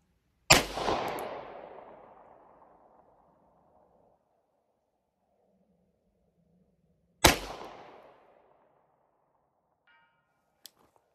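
Two loud rifle shots at long range, each followed by a long decaying rumble, with a faint sharp ping of a bullet striking a steel IPSC target at 400 yards after the second shot, no talking.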